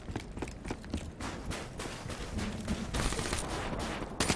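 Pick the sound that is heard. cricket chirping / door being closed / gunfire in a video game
gunfire in a video game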